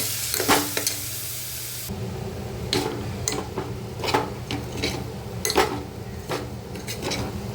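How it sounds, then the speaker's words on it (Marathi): Barnyard millet roasts in oil over a low flame with a soft, steady sizzle and intermittent spatula scrapes and taps against the pan. "मंद आचेवरती आपल्याला व्यवस्थित वरही भाजून घ्यायची आहे तेलामध्ये"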